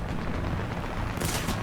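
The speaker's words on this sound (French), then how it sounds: "Ça me tire dessus là." Gunfire strikes the player's tank in a World of Tanks style game featuring an H.35 tank, heard as low rumbling booms and a burst of sharp impacts near the end, with no talking.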